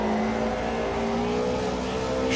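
Race car engines in the sim racing game Automobilista 2, a steady loud droning whine at constant revs, held without a break and with no voices.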